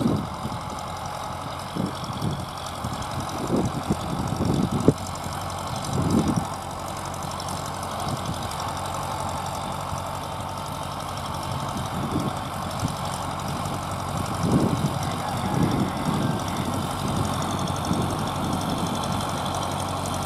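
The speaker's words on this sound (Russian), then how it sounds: "Вот сейчас трактор поедет" Tractor engine running steadily while pulling a two-hull garden plough to dig a furrow after potato planting in dry soil, a continuous mid-pitched idling drone with a few soft knocks and bumps, fairly distant and alone.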